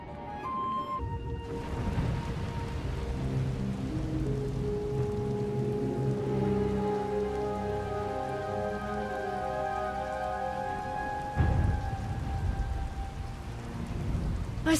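Steady storm rain pours throughout a Star Wars Knights of the Eternal Throne cutscene, with a low thunder rumble and a sharp crack near the end, under a swelling orchestral score.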